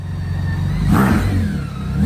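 A BMW K1600 Grand America touring motorcycle engine revs up, a loud smooth whirring rise that swells near the middle and holds close and steady, with no talk.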